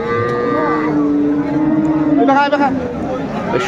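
A cow moos loudly and close by, a long drawn-out call, at a busy cattle market with a crowd chattering in the background.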